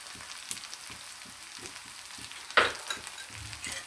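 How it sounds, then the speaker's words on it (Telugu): Cut bitter gourd pieces fry in a pan with a soft, steady sizzle, faint and close, and a single sharp clink of a spoon or stirring partway through; no one speaks. "కాకరకాయలు వేసుకుంటున్నాను కట్ చేసి పెట్టుకున్నాను"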